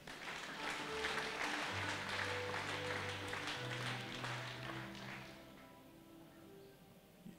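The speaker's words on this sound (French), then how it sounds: "Acclamons pour Jésus." A church congregation applauds for Jesus, dense clapping that swells and holds for several seconds, then fades away, with faint voices beneath.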